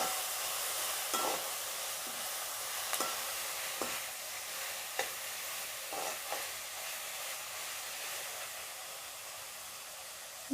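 Tomato, onion, mint and coriander frying in a pan for a tomato kurma, with a steady soft sizzle and a few light scraping stirs of a spoon breaking through at intervals, no voices.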